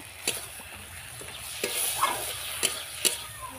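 Fish curry spices sauté in a pan with salt, a continuous sizzle broken by several sharp scrapes and clinks of a spoon stirring, close by and moderately loud.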